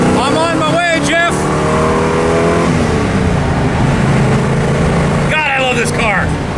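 An AMX classic car's engine hums steadily at close range while driving on a road, with voices talking over it at the start and again near the end.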